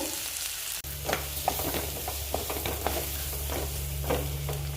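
Chickpeas with turmeric and salt being stirred in a pan over low flame, with a steady close sizzle and a low hum beneath, punctuated by light scraping strokes of the spoon.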